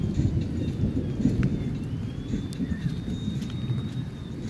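Low, rolling rumble of thunder from a lightning strike during a storm, sustained and fairly faint, with a few sharp clicks and a thin whine above it.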